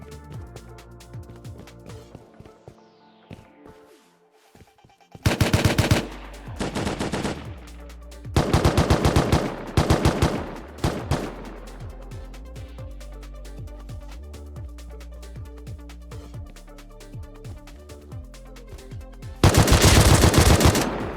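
HMLMG machine gun fire in the survival game Rust comes in several loud sustained bursts of rapid shots, separated by quieter stretches of scattered gunfire and game sounds.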